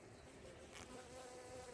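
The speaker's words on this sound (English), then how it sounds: "And there's a bee saying hello." A honey bee buzzes faintly and steadily close by during an outdoor honey harvest at a hive, a low drone with a brief swell partway through.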